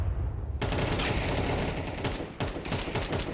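Counter-Strike gunfire in a close-range duel: rapid bursts of shots crack out loud and dense, stopping briefly before another volley, with no talk over them.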